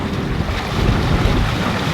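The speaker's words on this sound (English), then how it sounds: "We're getting some gusts, hey Captain?" Strong wind gusts buffet a sailing boat at sea, producing a loud, steady roar of wind noise against the microphone with rushing water beneath and no voices.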